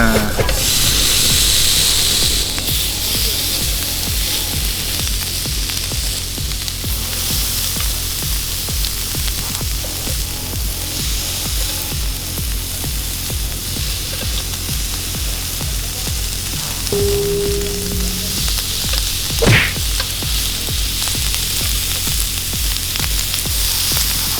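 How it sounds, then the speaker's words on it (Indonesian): Beef slices sizzle on a Korean BBQ grill set up outdoors in a rice field, giving a steady, close hiss of frying throughout with a brief tonal blip near the end. "Kita coba bakar yang beef slice-nya."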